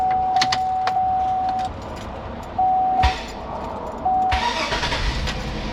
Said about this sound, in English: I gotta back off to get it to crank